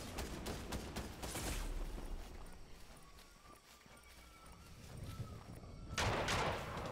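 Fortnite gunfire: a rapid burst of sharp shots at the start, quieter game ambience through the middle, then another loud flurry of shots near the end.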